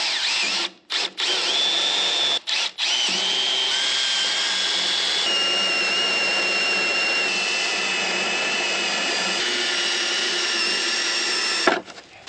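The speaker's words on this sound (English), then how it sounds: "drill straight through the plastic and the fifth wheel" A power drill whines continuously at high speed, briefly stopping and restarting, its pitch shifting slightly as it bores up close through plastic and a truck's metal fifth wheel.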